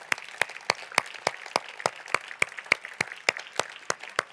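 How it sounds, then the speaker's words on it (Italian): Audience applause for Franco Battiato at an evening event of the Milanesiana festival, rendered as a sparse, rhythmic run of individual claps, close and fairly loud, with no talking over it. "E non riesco a non chiedere un applauso per Franco Battiato."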